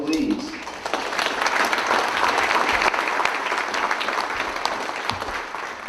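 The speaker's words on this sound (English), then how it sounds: "Round of applause for my friend from Danville, please." Audience applause at a Rotary president-elects training seminar in Nashville, sustained and full crowd clapping that runs steadily for several seconds, with a short voice at the start and faint cheering underneath.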